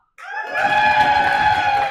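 Audience at a Relay For Life of Eugene/Springfield kickoff meeting bursts into loud, sustained cheering and whooping that starts abruptly and holds steady throughout, a dense crowd roar with high-pitched yells.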